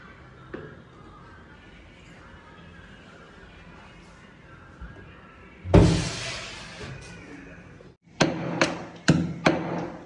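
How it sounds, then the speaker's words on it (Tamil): Garlic is pounded in a mortar in a home kitchen, heard as sharp, close thuds: one heavy strike, then a quick run of four or five blows near the end, over a quiet background. "இந்த மாதிரி பூண்டு எல்லாம் போட்டு நல்லா இடிச்சுக்கோங்க"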